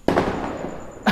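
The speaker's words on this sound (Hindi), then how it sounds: "बहुत ज़्यादा पटाखा फूट रहा है" Diwali firecrackers burst outdoors, one sharp loud bang at the start with rumbling echo and another crack right at the end.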